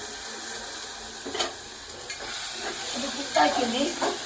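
Bitter gourd frying in an open, uncovered pan, a low continuous sizzle with occasional stirring scrapes and a louder bubbling burst near the end.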